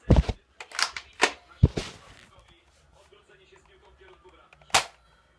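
A Nerf blaster fires repeatedly at a bottle, giving several sharp, close pops and snaps with brief pauses, followed by quieter handling noises and one last loud shot.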